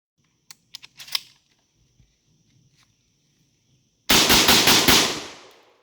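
A MAC 10 firearm firing a rapid burst of several rounds at an outdoor range, loud and close, preceded by a few faint metallic clicks and handling noises.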